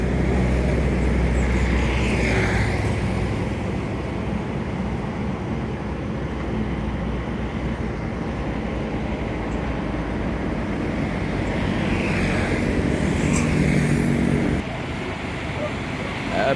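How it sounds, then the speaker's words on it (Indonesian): A double decker bus with an Avante D2 body passes along a road, a steady loud engine and road roar that stays up for most of the stretch before easing near the end, with some talk over it. "Pastel double decker melintas baru masuk dari Rantau ya"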